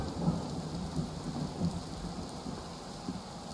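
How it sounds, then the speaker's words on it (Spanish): Video game rain pours down steadily with a low rumble of thunder rolling underneath, a continuous stormy wash without any voices. "¿puede dejar la lluvia ya de...?"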